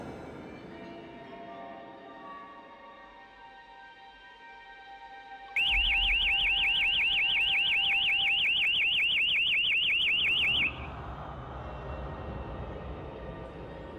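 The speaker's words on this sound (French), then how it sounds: "le son strident de la sirène" A construction site's motion-detection alarm siren starts suddenly at night, a loud, rapidly warbling electronic wail lasting about five seconds before cutting off, with faint ambient noise before and after.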